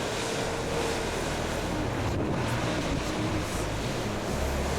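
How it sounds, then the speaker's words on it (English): Strong wind of 20 to 25 knots roars past the voyaging canoe Hokulea on a cold, wet night at sea, with waves sweeping against the hulls and splashing, a dense, loud and continuous rush with no talking. "Hear the sweep hitting our hulls, the wind flying by, waves splashing over the deck"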